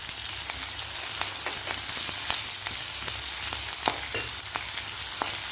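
Finely chopped onions and curry leaves sizzle steadily in a hot pan, with repeated sharp scrapes and taps of a spoon stirring them at an uneven rhythm; close and continuous, no talking.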